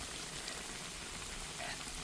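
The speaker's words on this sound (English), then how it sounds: "I have 4 in the oil frying." Hot water cornbread, four pieces, fries in deep oil. A dense, steady crackle and sizzle holds at a constant level throughout, with no talking.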